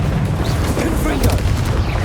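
A Confringo fire spell blast in Hogwarts Legacy, a dense booming burst of rumbling explosion noise that sustains loudly throughout, with brief crackling impacts layered on top.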